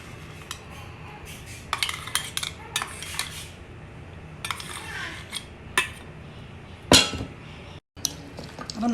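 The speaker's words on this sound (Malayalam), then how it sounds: "ഇതിൽ നമുക്കിനി ചെമ്മീനിലോട്ട് അത് മിക്സ് ചെയ്തെടുക്കാം" Ground garlic and curry leaf paste being mixed into prawns for prawn cutlets in a bowl, heard as repeated clinks and scrapes of a spoon against a metal dish, uneven bursts with one sharp loud knock near the end, no voices.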